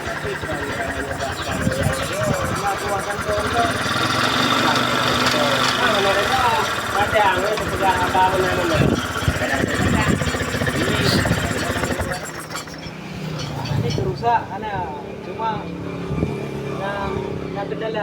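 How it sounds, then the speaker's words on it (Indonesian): A flood-damaged motorcycle engine, just kick-started, runs and idles with uneven revs under people talking, then quiets partway through before running on. "Sekali engkol motor sudah nyala ya."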